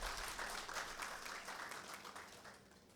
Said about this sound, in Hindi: जोरदार ताली बजा के उनका हम स्वागत करें।